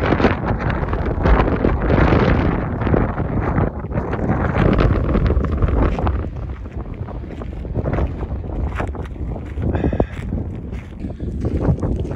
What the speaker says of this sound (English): Mighty windy.